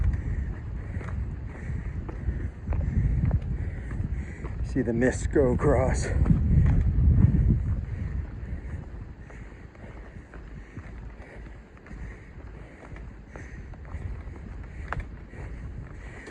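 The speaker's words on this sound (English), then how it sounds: "just real windy and breezy" Wind gusts across a mountain ridge on the Appalachian Trail, a steady low rush swelling in the middle and easing off, with a person speaking over it.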